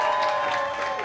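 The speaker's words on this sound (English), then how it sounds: "Big round of applause for your second act" A comedy club audience applauds and cheers for a comedian, a dense, loud, steady wash of clapping.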